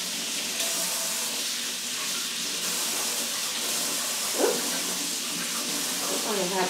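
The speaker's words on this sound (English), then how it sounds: "I'll just quickly rinse them off." Water runs steadily from a tap to rinse potted mini phalaenopsis orchids, a continuous close hiss with a few small splashes and knocks, no one speaking.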